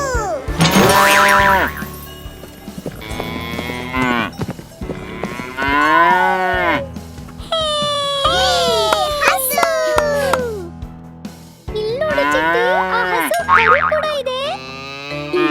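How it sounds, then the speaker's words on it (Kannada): Several loud, drawn-out moos with rising and falling pitch, close by, broken by short pauses, while a voice chatters in the background. "ಮುಂದೆ ನಾವು ನೋಡೋದು ನಮ್ಮ ಪ್ರೀತಿಯ ಹಸು."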